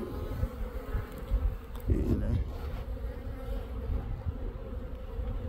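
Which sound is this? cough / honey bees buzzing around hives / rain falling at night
honey bees buzzing around hives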